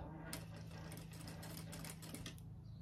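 A sewing machine running continuously while topstitching a seam at a longer 3.5 stitch length, a steady rapid mechanical whir and clatter close by and fairly quiet, slowing near the end.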